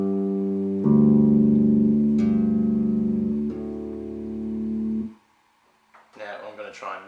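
Bass guitar notes played with the open strings left unmuted, ringing on and overlapping with sustained low tones for about five seconds before cutting off, followed by brief talking near the end.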